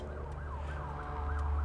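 Emergency sirens wail in the distance, a steady rising and falling tone that stays faint under low background rumble.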